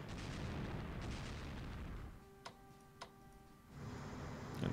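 Battleships open fire in the WWII strategy game Strategic Command: World at War during a naval battle of Java, with two sharp, distinct gun reports following a dense, loud rumbling stretch, then fresh rumble rising again.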